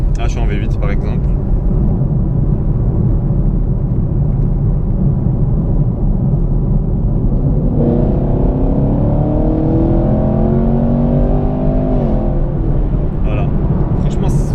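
A Chevrolet Camaro SS with a 453 hp V8 roars steadily from inside the car, then climbs in pitch through a rising rev sweep before easing off; continuous, loud and close.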